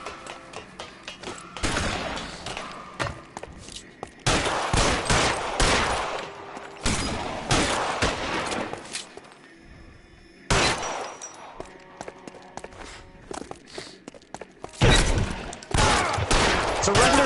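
Gunfire erupts in a rooftop police chase in LA Noire. Bursts of loud, dense shots come in several clusters separated by short gaps, over background game noise.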